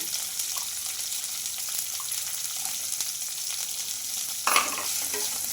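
Fresh coconut pieces fry in a pan with a steady, close hiss of sizzling oil, broken near the end by one brief utensil clatter, with no voices.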